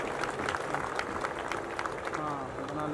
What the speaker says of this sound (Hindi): जोरदार तालियां दीजिए please